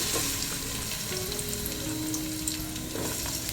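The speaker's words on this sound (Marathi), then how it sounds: "तर आता आईने टोपामध्ये टाकले तेल, तर पहिला टाकते कांदा." Chopped onion sizzling in hot oil in a cooking pot for a village-style seafood dish, a steady dense frying crackle with faint stirring, moderately loud and close, no voices.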